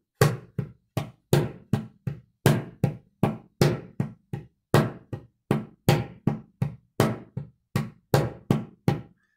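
Steady hand-drum strikes in a repeating pattern, some hits noticeably louder and sharper than the lighter ones around them, played close with no voices.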